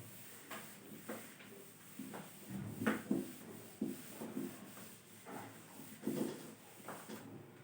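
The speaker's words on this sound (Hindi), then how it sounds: "चलो अब इसको रब कर देते हैं" Writing is rubbed out on a classroom board in soft, uneven scuffing strokes, several short rubbing bursts in a row, fairly faint.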